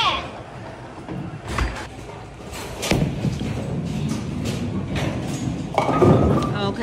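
A bowling ball thuds and rolls down a lane at a bowling alley, with heavy repeated impacts and rumble amid background voices and alley noise.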